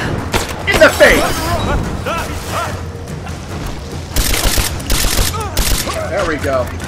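Gunfire and booming blasts in Rise of the Tomb Raider, sporadic loud shots and volleys amid combat noise, with voices talking throughout.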